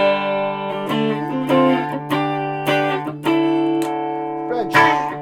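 A Chibson Explorer-style electric guitar plays through an Orange TH30 amp with only a reverb pedal. Sustained strummed chords and picked notes ring out loud and close, with the reverb tails blending together and no voice over them.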